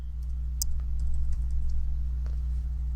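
Someone types on a computer keyboard with light, irregular key clicks over a steady low electrical hum.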